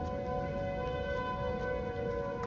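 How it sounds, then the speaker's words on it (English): Tornado sirens wail together in a steady, sustained chord of layered tones, droning continuously before cutting off. "the sirens synced up and harmonized to create this beautiful sound"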